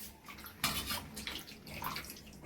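Water sloshes and splashes in a vessel while raw banana pieces are washed and drained in a kitchen, with soft pouring and dripping at close range and no speech.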